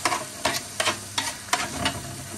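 Onions being stirred in a frying pan, with a few distinct scraping turns over a steady sizzle of hot oil, close and fairly loud, no voices.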